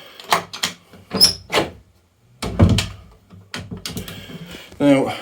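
An internal house door, its latch just repaired, is opened and closed a few times nearby, giving thuds, clicks and rattles mixed with handling noise.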